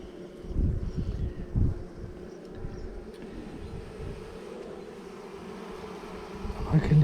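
Honey bees buzz in an open hive during an inspection, a close, low, continuous hum with louder swells as the smoke wears off, and brief handling bumps.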